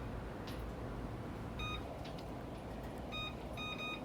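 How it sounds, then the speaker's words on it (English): A kitchen timer being set for banana bread gives several short, thin electronic beeps in small bursts over a steady low background hum, with no talking. "I'm gonna set my timer for 55 minutes"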